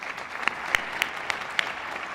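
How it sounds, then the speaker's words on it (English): Sparse, scattered claps from a few hands at a nursing school convocation and pinning ceremony, a handful of distinct sharp claps spread over a soft background murmur. "Give yourselves all a round of applause."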